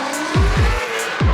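Tires of a Ford Mustang Shelby GT500 squeal during a burnout, with a loud engine and three rising revving surges over a steady screech, close and with no talk.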